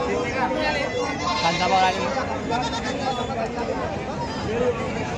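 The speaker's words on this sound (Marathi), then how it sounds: "आता बाजारात भरपूर बोकड आहे मित्रांनो" Goats bleat repeatedly among a crowd at the busy Varkhedi Bakri Eid goat market, where male goats are sold for sacrifice. The bleats sit under constant loud chatter and babble from nearby people.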